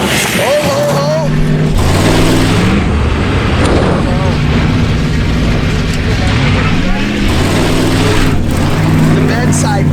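A worn Dodge truck engine roars loud and close during a junkyard challenge, revving and bogging through gears with constant harsh exhaust noise while excited voices shout over it.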